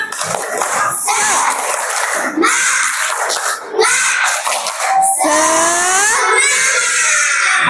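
A classroom of children chants and claps together in a loud, energetic rhythm, an Indonesian spirit clap, voices shouting over steady group clapping.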